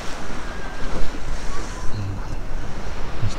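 Sea waves and surf roll onto the Yalta shore on a misty autumn day, a loud continuous wash of breaking water mixed with gusty wind buffeting close by.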